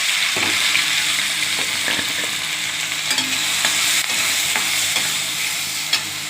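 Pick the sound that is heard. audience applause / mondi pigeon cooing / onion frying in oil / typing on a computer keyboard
onion frying in oil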